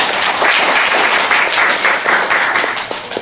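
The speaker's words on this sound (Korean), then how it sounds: "다시 한번 박수 드리겠습니다." A short, loud burst of audience applause at a nonprofit panel discussion. The clapping is dense and fills the room, easing slightly at the end.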